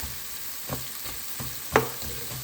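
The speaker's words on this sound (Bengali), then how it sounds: "3-4টা আলু আমি কুচি কুচি করে কেটে নিয়েছি, দিয়ে দিলাম।" Finely chopped potatoes frying in a pan, a soft steady sizzle with a few light stirring taps and one sharper clink near the end, close and alone with no talk.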